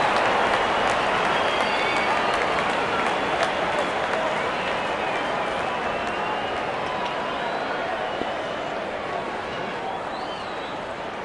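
A large cricket stadium crowd applauds and cheers a batsman reaching his fifty, a dense, steady roar of clapping that fills the whole stretch without letup.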